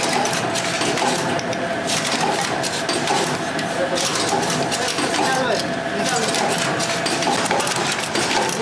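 An aluminium and laminate tube filling machine runs with its tail-cutting stage working, giving a continuous rapid mechanical clatter and whirr at close range.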